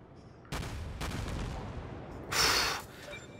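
HMS Warspite, a British tier VI battleship in World of Warships, fires a broadside in a few heavy booming salvos, with a louder blast near the end, all close and with no talk.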